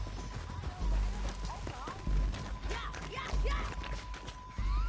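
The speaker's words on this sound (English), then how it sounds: "We need our horses." Horses gallop in the Red Dead Redemption 2 video game, with rhythmic hoof clip-clop mixed under voices, bright whistle-like calls and a steady tone.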